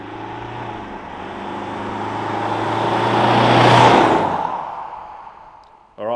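Isuzu D-Max four-wheel drive fitted with a Torqit aftermarket exhaust, its engine note building steadily as the vehicle approaches and passes close by, peaking mid-way then fading away.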